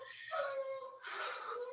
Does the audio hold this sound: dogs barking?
yes